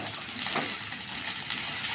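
Tomatoes and onions sautéing together in a pan for paneer butter masala, a steady soft sizzle and light stirring rustle throughout with no talk.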